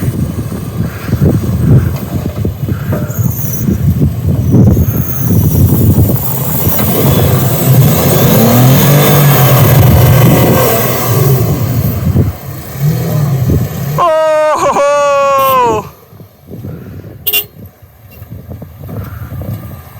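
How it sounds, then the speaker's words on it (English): Powerful cars churn through deep sand in the Empty Quarter (Rub' al Khali) desert, their engines roaring loud and steady for a long stretch before the noise drops away, leaving a few sharp, high sweeping sounds. "So these cars are extremely powerful, and it seems we are out of the deep sand."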